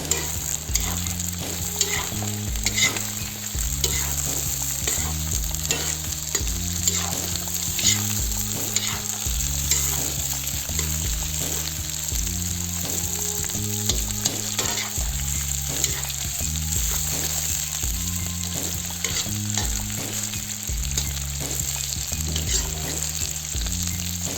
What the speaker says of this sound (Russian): После этого добавляем морковь и немного обжарим ее.